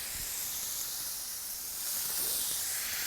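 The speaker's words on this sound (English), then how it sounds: "we're just going to grill these until there's nice grill marks underneath and the prosciutto is crispy" Prosciutto-wrapped scallop skewers sizzle on a grill, a steady close hiss of fat and searing that swells slightly louder toward the end, with no talking.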